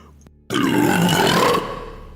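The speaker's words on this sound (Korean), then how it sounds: "고래 트림 때문에 찬이와 준이는 뒤로 벌러덩 넘어졌지" A long, loud, deep burping roar from a whale in a children's story, starting abruptly and rumbling for about a second before fading into a lower tail.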